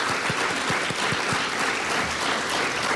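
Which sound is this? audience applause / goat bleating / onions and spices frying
audience applause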